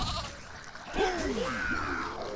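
Sheep bleating from a sheep spell in the video game DungeonLand, a wavering bleat rising clearly over low game background noise about midway through.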